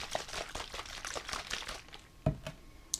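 Thickener being mixed into a liquid, with a run of soft, uneven splashing and stirring noises, plus a couple of sharper knocks near the end.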